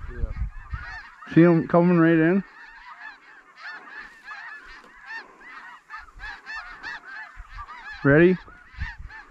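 A flock of snow geese honks loudly overhead as it comes in during a two-man goose hunt, with strong bursts early and near the end and scattered calls between, while hunters speak quietly underneath.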